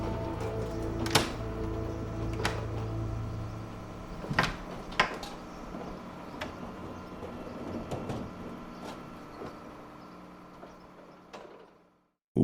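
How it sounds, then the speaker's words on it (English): A door is opened indoors: a series of clunks, clicks and knocks over a steady low hum, which cuts out at the end. "I'm gonna put the laptop down and open the door."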